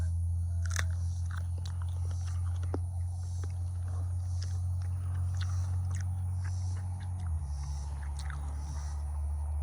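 Close crunchy bites and chewing of a fresh jujube fruit, sharp crisp snaps followed by moist chewing over a steady low outdoor hum, no talking.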